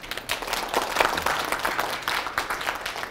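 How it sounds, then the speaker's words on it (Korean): An audience of farmers at an agricultural training lecture claps for themselves, a dense burst of hand claps sustained for a few seconds at moderate loudness. "우리 각자 우리를 위해서 박수 한번 치세요"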